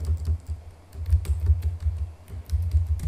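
Keys clatter on a computer keyboard as a password is entered, in quick irregular close taps with short pauses, alone without talk.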